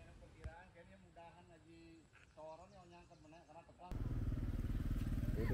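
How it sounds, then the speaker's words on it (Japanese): Motorbikes pass along a road in Ubud, Bali, with a rising and falling engine whine at first, then a loud, close roar near the end, while insects and birds chirp faintly in the background. "バイクもビュンビュン通るので気をつけましょう。"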